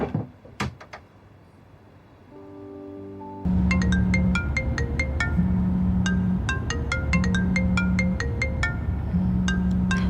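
A phone rings in an office in a Chinese TV drama. After a few quiet knocks, a loud melodic ringtone starts and loops its bright tune repeatedly to the end.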